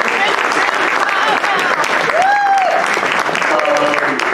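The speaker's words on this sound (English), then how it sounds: "Let's give a round of applause for the panel." Sustained applause from a conference audience after an AI ethics and policy panel, a dense steady clapping wash filling the room for several seconds, with faint voices and a brief tonal sound underneath.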